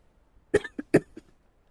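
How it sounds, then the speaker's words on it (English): Two close coughs in quick succession, each with a short trailing catch, fairly near and alone with no talking. "Take a drink, because I'm coughing."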